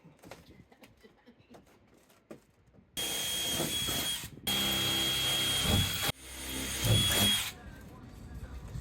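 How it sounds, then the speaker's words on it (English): A power drill bores reference holes through a camper van's body during a window installation, producing loud, steady whining runs of a few seconds each, broken by short pauses, with faint background noise before the drilling starts. "I'm drilling these holes through for a reference point on the outside"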